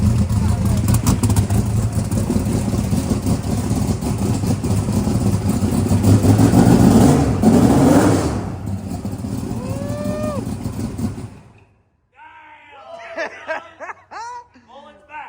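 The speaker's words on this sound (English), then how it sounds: "Let me rev it up." A 3,000 hp El Camino drag car engine revs hard and loud for about eleven seconds, then cuts off. Voices and laughter follow.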